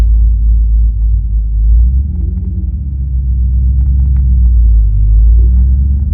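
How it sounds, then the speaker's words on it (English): A manual car pulls away in first gear with the e-brake off: a loud, close, low engine rumble that holds steady, then deepens slightly as it moves off. Nobody speaks. "car is in first gear, e-brake off"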